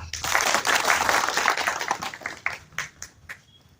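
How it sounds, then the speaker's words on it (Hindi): An audience in a district council hall claps for a dignitary at a Netaji Subhas Chandra Bose birth anniversary event, a dense burst of applause that thins into scattered claps within a few seconds. "इनके लिए जोरदार ताली।"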